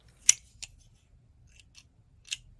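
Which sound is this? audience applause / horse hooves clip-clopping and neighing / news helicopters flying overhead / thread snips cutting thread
thread snips cutting thread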